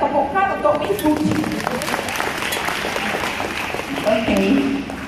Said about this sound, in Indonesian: jadi berikan tepukan untuk Miss Suci.